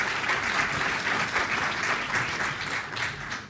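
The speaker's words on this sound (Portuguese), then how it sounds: "Peço uma salva de palmas ao nosso convidado." Audience at a hydrography conference applauds an invited guest, a dense, even wash of clapping from many people that holds steady and eases slightly at the end.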